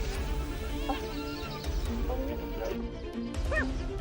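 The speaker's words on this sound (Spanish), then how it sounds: "La risa inquietante de las hienas se convirtió de repente en aullidos de emoción" Hyenas on the Serengeti, stealing a cheetah's prey, give excited rising whoops and yelps over a dense, noisy wild background, with a couple of calls standing out.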